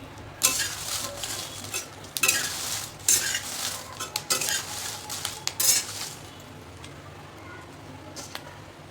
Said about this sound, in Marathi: प्रत्येक मिरचीला वेगळा टाईम लागतो भाजण्यासाठी.